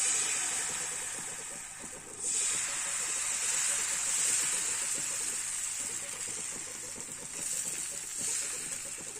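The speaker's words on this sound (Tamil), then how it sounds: "நம்ம இப்போ தோசை ஊற்றிடலாம். அடுப்பில் தோசைக்கல் சூடாயிடுச்சு." Dosa batter hits a hot griddle (tawa) for a Karnataka-style instant dosa, giving a steady loud hissing sizzle that runs throughout, swelling briefly at a couple of points.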